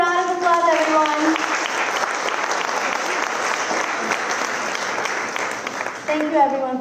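An audience claps in sustained, dense applause after guests are called onto a stage, with a host's voice speaking briefly at the start and end.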